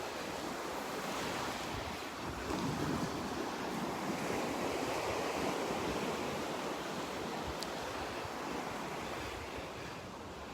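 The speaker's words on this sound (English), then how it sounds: "The surf has calmed down a little bit here, not as rough as yesterday." Ocean surf rolls steadily onto the beach at Delnor-Wiggins Pass State Park in North Naples, a continuous broad wash of breaking waves with wind noise, calmer than rough surf, no voices.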